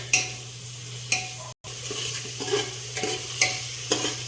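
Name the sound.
tomatoes sautéing with green chillies in pan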